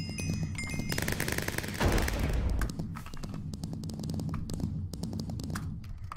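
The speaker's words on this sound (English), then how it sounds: "shotgun." Gunfire from a shotgun in Minecraft Super Paintball, several sharp bursts with one heavier booming blast in the middle, mixed with quick clicks and game sounds at moderate loudness.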